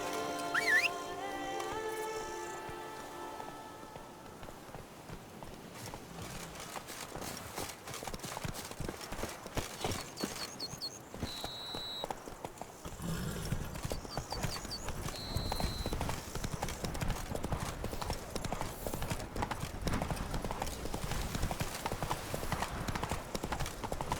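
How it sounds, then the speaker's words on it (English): A horse's hooves trot steadily in The Witcher 3 video game, a quick rhythmic clip-clop that runs throughout, first over quiet ground and then louder and denser, with brief game sounds alongside. "Whoa there, Roach."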